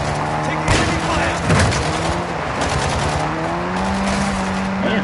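Gunfire in Call of Duty DMZ: rapid crackling bursts of automatic fire with a couple of louder shots, set against a droning engine-like hum, while players talk over it.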